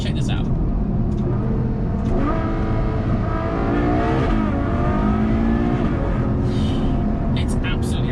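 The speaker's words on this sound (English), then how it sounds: "the one thing for me that makes this a true Ferrari, I mean a Ferrari through and through, is the relationship between the engine and the gearbox." A Ferrari GTC4 Lusso V12 accelerates hard through its gearbox, the engine note rising and falling across shifts in a loud, continuous close-up roar, with a person talking over it.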